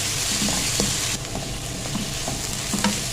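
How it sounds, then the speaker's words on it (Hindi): Onions sizzle steadily in a hot pan for stuffed karela, with a constant frying hiss broken by soft stirring scrapes and taps close by. "अब हम इसको भी फ्राई करेंगे। थोड़ा सा प्याज हमारा सोते हो जाए"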